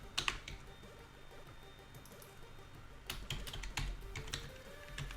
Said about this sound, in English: You can type better than this.